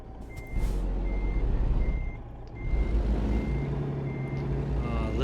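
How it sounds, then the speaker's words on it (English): Heavy truck idling and moving off in American Truck Simulator, a low rumbling engine with an air brake hiss and a steady series of reversing beeps repeating over it. "Oh, listen to that engine go."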